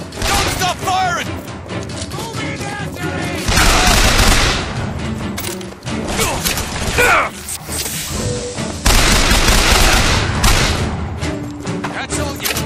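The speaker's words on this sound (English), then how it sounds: "Don't stop firing!" Gunfire in the video game Bioshock Infinite, loud bursts and booming shots in dense overlapping volleys, with a voice speaking over the battle.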